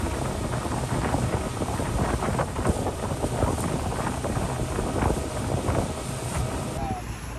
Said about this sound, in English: So here we have a Suzuki outboard motor, and it's quite adequate to propel this boat at considerable speed.